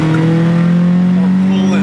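Close, loud engine drone of a van driven hard in an informal race, a steady tone with slight tire noise and voices mixed in.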